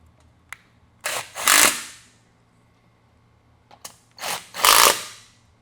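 Short bursts from a drill tightening bolts during assembly of a Valor Fitness CB-12 lat pull down machine, two pairs of whirring runs separated by quiet pauses, close and fairly loud.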